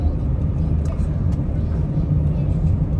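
Steady low rumble of a car driving along a road, heard from inside with constant engine and road noise while a person talks over it.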